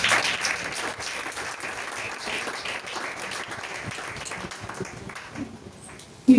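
A church congregation applauds the Lord during a sermon, steady dense clapping that fills the space continuously, holding at an even level before a sharp burst right at the end.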